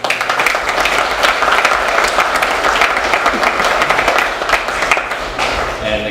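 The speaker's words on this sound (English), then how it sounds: "So I think they deserve a very big round of applause for everything that they do." A crowd at a firemen's ball bursts into loud, dense applause that holds steady for several seconds, thick and close with a few thumps mixed in.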